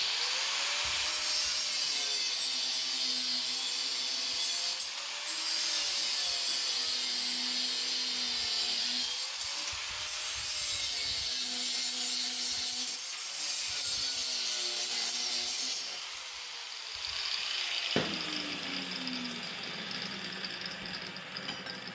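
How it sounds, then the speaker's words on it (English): A power tool grinds through excess steel on a homemade side-by-side windshield frame, with a harsh, steady cutting rasp whose pitch wavers in repeated cycles as the blade bites, close and loud. "I'm going to go and cut this excess off that I don't need"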